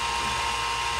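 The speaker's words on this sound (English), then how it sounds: "we're going to drill four holes" A dental drill whines steadily, boring holes into a dental model's ridge, one continuous high-pitched tone at close range with nothing else audible.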